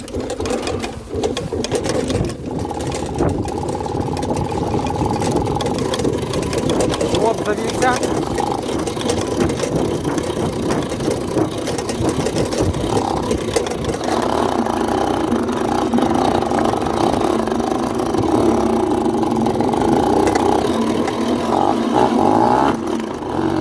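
A Karpaty moped's small two-stroke engine runs loudly and continuously up close, with a buzzing, rattling drone that rises and falls slightly as it revs.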